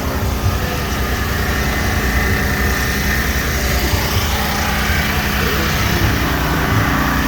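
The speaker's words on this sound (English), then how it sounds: "I hope you can hear me over the generator" A generator runs steadily at a campground during a spring Talladega race weekend, producing a constant, close, low engine hum and buzz with no speech.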